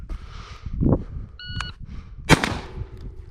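A short electronic shot-timer beep sounds, followed moments later by a sharp, loud blast from a Beretta A300 Ultima Patrol shotgun that rings out and decays, with outdoor background noise throughout.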